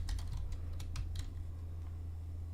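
Quick bursts of keystrokes on a computer keyboard as C++ code is typed, a fast irregular clatter of about a dozen close clicks over a steady low electrical hum.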